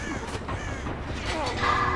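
Crows cawing in the horror game Dead by Daylight, a few harsh caws rising over a dense, noisy game soundscape, with a louder, clearer call near the end.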